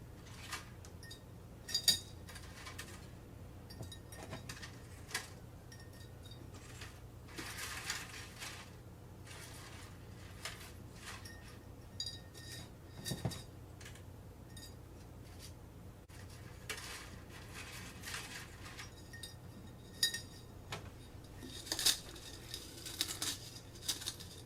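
Dried garlic scapes crunched and pressed down into a glass jar, giving a steady run of dry crackling, brittle snaps and clinks against glass, close and fairly quiet with no talking.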